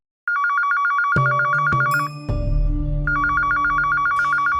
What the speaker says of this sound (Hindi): अरे वो भैंस बुद्धि कोई फोन।